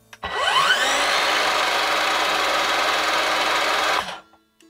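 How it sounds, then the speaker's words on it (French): An Evolution R185SMS-Li radial miter saw blade spins up from rest with a gradual, rising whine, then holds a loud, steady high-pitched run for about four seconds before cutting off abruptly. "Comme vous pouvez le voir, le démarrage de la lame est progressif."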